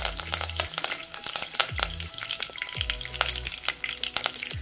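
Urad dal and curry leaves frying in hot oil for a bitter gourd curd thokku, a steady close crackling sizzle with sharp pops and a few low clunks, no voices.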